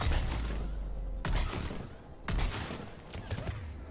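Gunfire rattles at a checkpoint in the video game Mass Effect 3, three sharp bursts of shots with whooshing effects between them, fairly close and with no talk over it.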